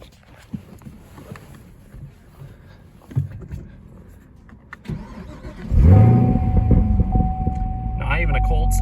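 A Chevrolet Camaro ZL1 1LE, warm rather than cold, cranks over and fires up, its engine settling into a loud, steady idle after quieter handling sounds and a person speaking.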